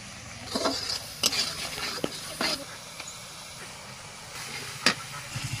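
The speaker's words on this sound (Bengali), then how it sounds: "কড়াইয়ে তেল গরম করে দিয়ে দেওয়া হলো পাঁচ ফোড়ন আর সঙ্গে বেটে রাখা পেঁয়াজ" Onion paste and panch phoron frying in hot oil in a wok, a steady sizzle under repeated scraping stirs, with several sharp utensil clatters close by.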